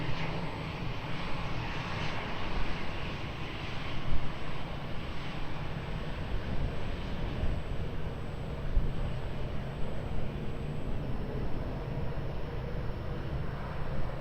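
An airliner's engines roar steadily at Lisbon Airport on runway 20 during takeoff, a broad, continuous rumble that holds at a fairly even level with slight swells throughout.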